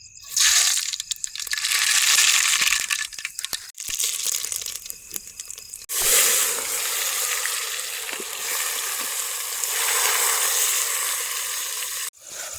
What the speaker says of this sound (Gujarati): જો તેલ ઉકળે ને એટલે આપણે એમાં હે ને રાઈ નાખવાની છે.